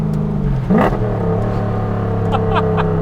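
A Mazda car engine hums in a steady, harmonic drone, then briefly revs up and settles back, close and loud, with small clattering touches near the end.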